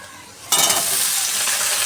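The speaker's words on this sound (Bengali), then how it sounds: "একটু ভালো করে ভাজা ভাজা করবো।" Pumpkin and potato pieces land in a hot pan and start frying with a sudden loud sizzle that settles into a steady hiss as they are stirred.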